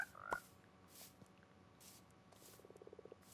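Frogs croak in the video game Minecraft, faint and sparse, with a short trill of rapid pulses near the end over quiet background ambience.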